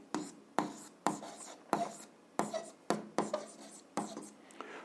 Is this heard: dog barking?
no